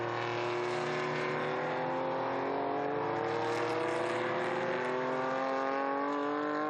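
Historic racing cars, a Merlin and a Porsche, at Estoril Classics 2021, their engines droning steadily with rising harmonic whine as they accelerate on track, continuous and fairly loud throughout, with no speech.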